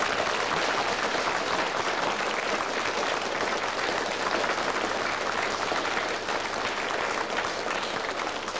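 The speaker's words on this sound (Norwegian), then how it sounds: "dere skal ta imot ham nå med en ordentlig applaus" A television studio audience gives a warm welcoming applause for a guest, a dense, sustained roar of clapping at steady loudness throughout, with a faint low hum beneath.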